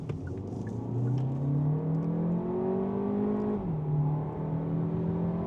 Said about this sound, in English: Now let's accelerate here up to 100 in sport mode just to see what the acceleration is like.